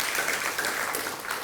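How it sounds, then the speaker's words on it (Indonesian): A church congregation at a Sunday service claps briefly, a short burst of dense, fairly loud applause from many hands. "Berikan tepuk tangan untuk Tuhan Yesus."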